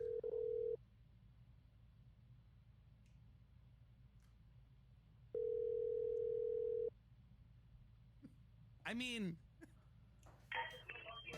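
A telephone call goes through, with a steady tone that sounds twice, a quick rising warble of dialing tones, then a higher ringing burst. A voice speaks faintly between them.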